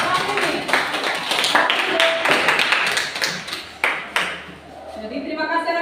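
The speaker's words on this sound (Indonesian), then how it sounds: "Tepuk tangan buat kelompok terakhir ya" Students in a classroom clap for the final presenting group, a loose burst of close hand claps and taps with occasional thuds, mixed with chatter and talking.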